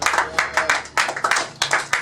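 Congregation at a church service clapping in a rhythmic, regular beat, roughly two claps per half second, close and fairly loud with a little accompanying crowd noise.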